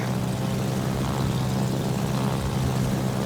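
Steady low aircraft engine drone from carrier planes in World of Warships, a continuous propeller hum held at an even level throughout with no talk over it.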